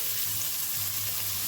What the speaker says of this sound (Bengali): পাল্টি একটু দিলাম, টমেটো কুচি দিচ্ছি,